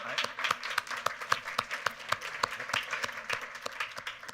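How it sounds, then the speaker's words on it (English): An audience at an urban policy luncheon discussion claps together in a brisk, steady patter of many hands, moderately distant and even, welcoming a guest to the stage. "Let's give him a round of applause, please."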